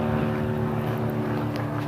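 An airplane flies overhead, a steady droning hum with strong tonal lines and a broad roar, loud and continuous for the short stretch.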